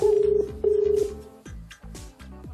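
A telephone rings on an unanswered call, two loud, close, warbling electronic ring bursts followed by a quieter repeating tone pattern, with no voices.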